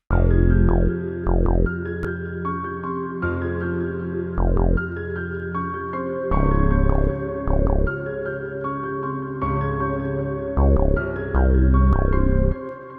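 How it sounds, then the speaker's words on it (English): Deep synth bass notes pulse in a bouncy rhythm, with sustained tones and short chord stabs layered over a steady groove. "I added the low bass from Expand, which sounds like this."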